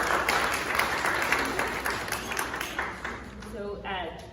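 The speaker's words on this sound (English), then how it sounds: "If you can please kindly give a round of applause to all of our wonderful speakers" An audience at a Sri Maa Sarada Devi celebration symposium gives the speakers a round of applause, dense clapping that gradually thins and fades as a voice begins to talk near the end.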